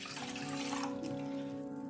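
Water poured into a Moroccan tea kettle, a steady close splashing stream with rising pitch as the kettle fills, lasting about two seconds with no talking.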